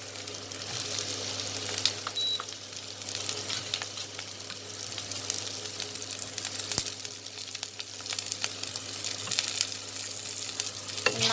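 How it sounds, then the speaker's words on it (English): Mushrooms, carrots and capsicum sauté together in a pan, a continuous close sizzle with a steady low hum underneath and occasional clicks and scrapes of stirring, no voices. "Now I will saute everything together."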